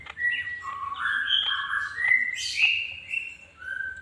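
A green leafbird (cucak ijo) kept as a caged songbird sings a continuous, varied run of bright whistled chirps and trills, close and clear with no talk.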